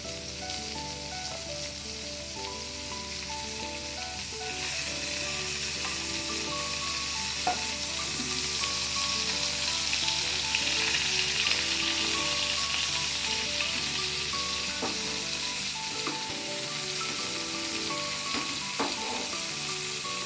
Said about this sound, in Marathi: थोडं तेल टाकूया आणि इकडून पण तळून घेऊया चांगलं